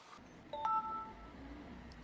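A powerbank built from a drill battery gives a short electronic beep as a phone starts charging: a couple of brief, clean tones in a quiet room, fairly soft and close.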